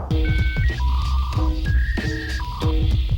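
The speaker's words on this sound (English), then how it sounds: "the sound of the fax machine tells us it's what we want to know" A fax machine plays its handshake: loud, close electronic warbling tones and beeps in repeating stepped bursts over a buzzing hum, no talk.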